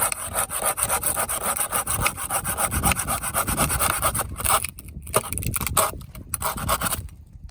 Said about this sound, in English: all our saws are designed to cut on the pull stroke